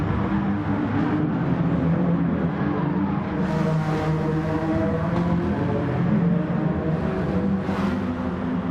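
Racing cars lap the Lago Maggiore circuit in a video game, giving a steady blended engine drone at moderate level with gentle rises in pitch as they run up the straight together.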